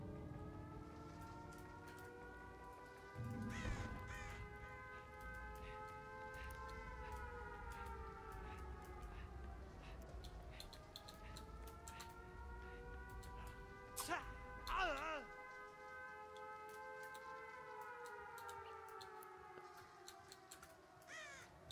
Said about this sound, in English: The siren is a nice touch,